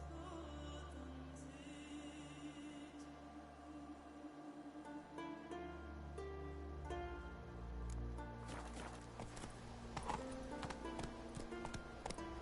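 Hooves of Roach, a horse ridden in The Witcher 3, clip-clop steadily under ambient game sound, becoming louder and more clattering toward the end.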